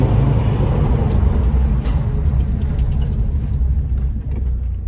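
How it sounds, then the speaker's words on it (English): Inside a Ford Focus ST Mk2 with the back seats removed, a loud low road rumble and engine drone carry steadily while driving, with no talk. "I'm going to go for a little drive and add this clip into the video before the outro"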